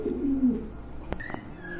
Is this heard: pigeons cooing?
yes